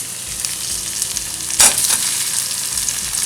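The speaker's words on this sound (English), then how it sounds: "So before the butter burns, we're going to add a bit of garlic and ginger to it." Garlic and ginger hit browning butter in a pan with a steady, close sizzle that flares into a louder burst partway through, then settles back into a constant frying hiss.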